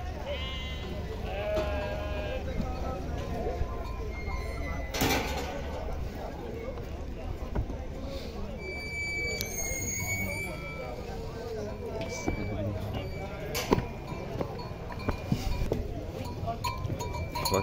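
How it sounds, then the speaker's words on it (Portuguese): Sheep and goats bleat repeatedly from a distance amid a busy crowd murmur and scattered voices at an outdoor livestock fair in Afogados da Ingazeira, Pernambuco, Brazil. "Ali ao fundo tá a feira de caprinos e ovinos."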